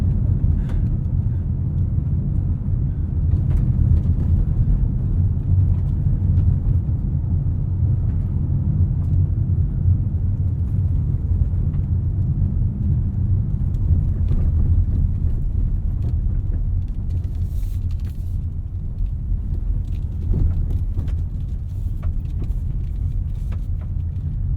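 A 2023 Mazda CX-50 2.5 Turbo AWD rolls over a loose off-road surface, heard as a continuous low rumble of engine and tires from inside the cabin, steady and fairly loud with occasional small knocks.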